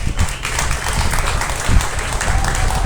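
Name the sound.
audience applause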